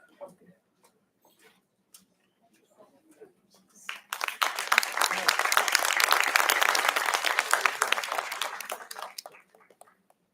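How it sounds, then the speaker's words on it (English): Applause from a conference audience at a heritage management event, bursting in after a few faint taps and ticks, swelling into dense, sustained clapping for about five seconds, then cutting off abruptly. "May we please have a huge round of applause for ma'am"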